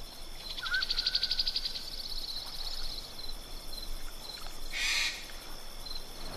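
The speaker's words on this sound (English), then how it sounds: "or the misty jungles with exotic birds." Misty jungle ambience from the fantasy strategy game Age of Wonders 3, with exotic birds: a rapid trilling call early on, a short hooting note and a sharp shrill cry later, over a steady hum of insects.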